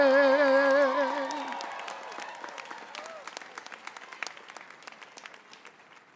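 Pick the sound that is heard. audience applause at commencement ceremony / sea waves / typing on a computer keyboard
audience applause at commencement ceremony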